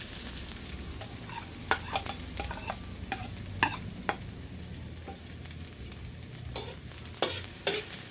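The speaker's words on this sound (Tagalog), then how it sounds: "Igigisa ko na po itong ricado, bawang sibuyas, saka po yung luya." Garlic, onion and ginger sauté in a pan, a soft steady sizzle broken by frequent scraping clicks of a spatula stirring, with no talking.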